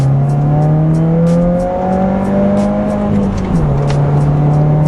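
Car with an Accessport tune accelerating hard in second gear, a loud steady engine drone rising in pitch close by, easing briefly before climbing again, no voices.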